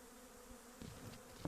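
Faint, steady buzzing of a small honeybee swarm at an apiary, a low hum with a few louder close passes near the end.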